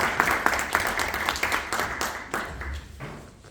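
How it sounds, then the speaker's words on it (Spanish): An audience at a book presentation gives steady, dense applause, a continuous patter of many hands clapping that fades slightly toward the end, with no voices over it. "Recibimos, por favor, con un aplauso a Gabriela Ruesga Requena"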